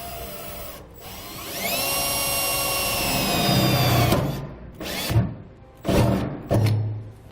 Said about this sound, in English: we're going to make a pilot hole using a 1/4" drill bit